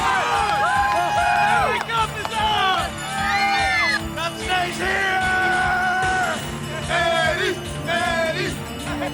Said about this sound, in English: And the Dallas Stars would return to a frenzied reception.